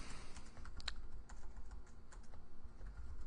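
Steady typing on a computer keyboard, a continuous run of light key clicks with a few sharper taps, close and alone with no talking.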